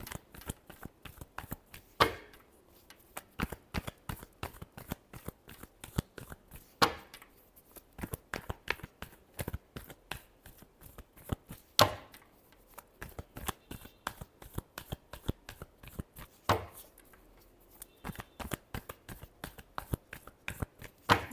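Tarot cards being shuffled by hand, a steady run of crisp riffling snaps and flutters with brief pauses between bursts, close and fairly quiet, with no talking.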